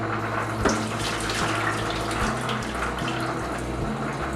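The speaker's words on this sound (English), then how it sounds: "I like to pour the water off" Simmering water is poured off canning jar lids during home bourbon barbecue sauce making, a steady splashing stream running continuously at close range.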